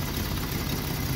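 A misfiring Jeep engine idles close by with a dense, continuous rumble and a rough low-end churn. The burst is brief and steady, with no other sounds.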